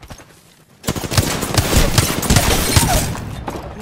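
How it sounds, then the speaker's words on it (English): After a quiet moment, heavy gunfire erupts in an Apex Legends match, a dense volley of overlapping close shots and sharp bursts lasting a few seconds, loud and busy, no voices. "The enemies are shooting at me"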